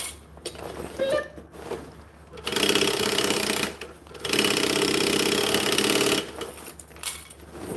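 A sewing machine stitches a piece of a five-piece clothing set, running in two steady close bursts of rapid needle chatter with quieter pauses and fabric handling between them.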